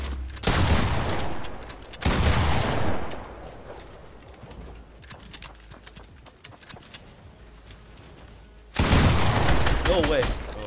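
Fortnite gunfire in a controller match: dense bursts of rapid in-game shots come in clusters with quieter gaps between them, mixed with game effects and a player talking.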